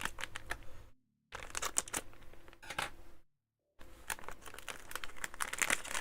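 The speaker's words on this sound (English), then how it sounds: "Let me grab a pair of scissors and we'll open this up." Plastic packaging for Voron Trident 3D printer parts is crinkled and cut open with scissors, close-up rustling and snipping in short bursts separated by brief silences, with no talking.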